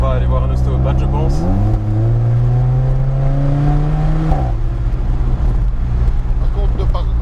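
Alfa Romeo 4C Spider engine revving on a test drive, pitch climbing steadily through a gear then dropping, loud and close with a continuous drone and voices talking over it.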